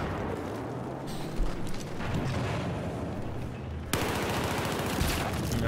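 Rapid automatic gunfire and bursts of shots fill a team shooter video game match, dense and continuous, with a sharp loud volley near the end.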